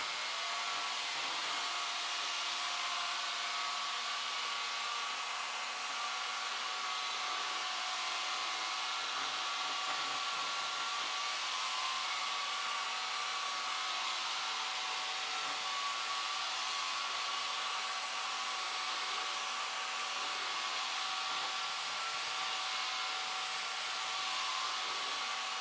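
Shark HydroVac MessMaster and Bissell Crosswave Pet Pro wet-dry vacuums cleaning coffee grounds off a floor, a steady loud motor whine with a constant high tone, running unbroken throughout with no talking.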